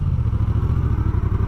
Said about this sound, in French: Lorsque je mets des petits coups d'accélérateur dans le vide